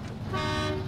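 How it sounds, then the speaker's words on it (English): A truck's horn in the off-road driving game SnowRunner gives one short, sustained toot, heard fairly faintly in a game mix with low rumbling underneath. "Walls, I made someone break a dish in their house by honking my horn so loud"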